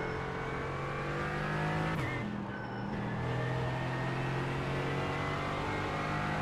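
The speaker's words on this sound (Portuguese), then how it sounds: "O carro tá todo desequilibrado." Engine of a Mercedes GT4 race car in the iRacing sim at Barber, droning steadily at high revs throughout, with a brief dip and shift near the two-second mark, loud and close with no talk.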